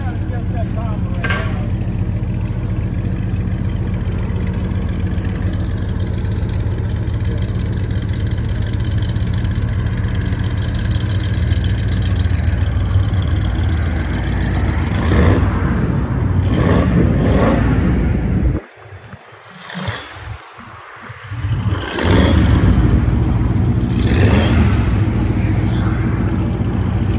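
A 1946 Chrysler Windsor V8 with headers and true dual exhaust rumbles steadily at idle, loud and close, with a few blips of revving near the end.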